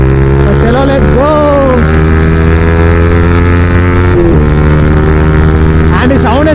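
A Yamaha R15 motorcycle engine revving loudly close up, with rising and falling engine pitch sweeps and steady droning harmonics, a brief dip in revs midway before climbing again.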